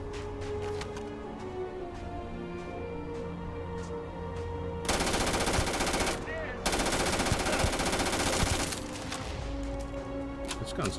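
Gunfire in the space RPG Starfield, sustained bursts of rapid automatic shots in two long stretches over a busy game soundscape, with a short pause between them.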